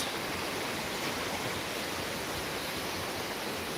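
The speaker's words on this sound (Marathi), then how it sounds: "हा आहे बिंदुसरा नदीचा पूर सध्या पाऊस भरपूर झाल्यामुळे बिंदुसराला भरपूर पाणी आलेलं आहे" Loud, continuous rushing of the flooded Bindusara River in Beed, near a railway bridge, a dense unbroken roar with no pauses.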